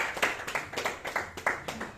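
A church congregation claps in a steady rhythm while acclaiming Jesus, a string of sharp hand claps repeating about four times a second, with faint voices underneath.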